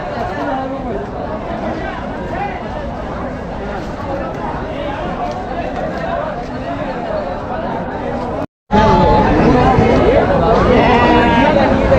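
Sheep and lambs bleat in a busy livestock market, a steady dense crowd of calls mixed with nearby chatter and people talking throughout, broken by one brief gap.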